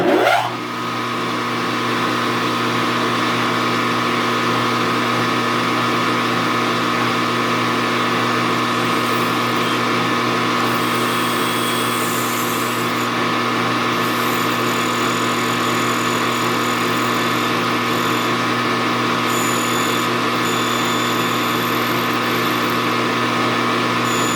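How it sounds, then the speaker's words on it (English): A loud, continuous high-pitched motor whine of an electric drill with a dull bit running steadily for a long stretch, with no voices. "Now let's get this 86 drill back out."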